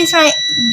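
A Honeywell BC2000 burner controller gives a steady, high electronic beep during relay testing, sounding continuously under close-up talk.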